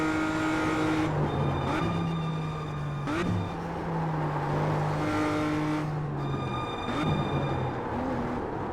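Race car on a flying lap around Navarra in a racing video game, engine note climbing and dropping through gear changes with brief tire squeals in the braking zones, continuous and close.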